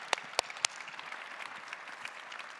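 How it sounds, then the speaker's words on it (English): Audience clapping at a Chicago interview event, a brief, fairly faint round of applause from a seated crowd, opening with a few sharp individual claps. "A big applause for Tim Samuelsson."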